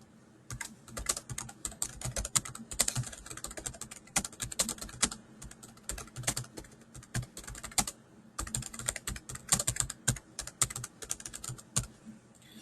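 Notes are typed on a computer keyboard, a quick, uneven patter of close, light key clicks that runs in bursts with a brief pause partway through.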